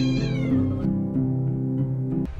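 A cat lets out a long, drawn-out meow, loud and near, its tone wavering like a low yowl before cutting off.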